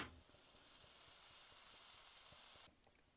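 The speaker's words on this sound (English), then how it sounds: "Okay, back over to our hot pan. We are adding a stick of butter" A stick of butter melts in a hot pan with a soft, steady sizzle and faint crackle, quiet and close, cutting off abruptly near the end.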